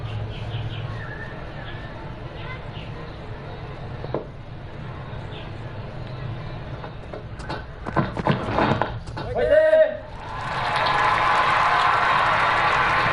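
A cricket crowd at a West Indies v Pakistan Test match reacts to a shot, swelling into a loud, sustained roar after scattered sounds and talk.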